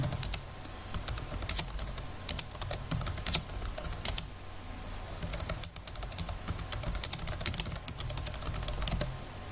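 Fingers type on a computer keyboard in a steady, close patter of clicks with occasional louder keystrokes, and no voices.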